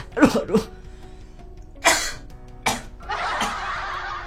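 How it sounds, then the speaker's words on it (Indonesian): Several sharp, explosive coughs close to the mic, a quick pair at first, then two more bursts spaced apart, ending in a breathy exhale. "saya batuk"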